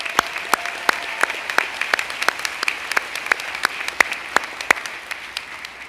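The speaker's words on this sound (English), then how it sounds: "Give yourselves a round of applause right now." Graduation audience at a 2012 summer commencement clapping in sparse, separate claps that are mostly isolated sharp hits, fairly close and moderately loud, with no talk.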